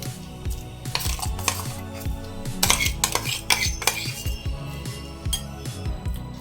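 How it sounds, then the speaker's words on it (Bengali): Ground masoor dal being scooped from a steel mixer jar into a bowl, with repeated sharp metallic clinks and scrapes of a spoon against the jar, close and fairly loud. "একটা বলে মুসুর ডালগুলো উঠিয়ে নেবো"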